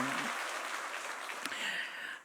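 Church congregation applauding during a Sunday worship service, a dense steady wash of clapping that fills the whole clip and tapers off at the very end, with a brief voice near the start.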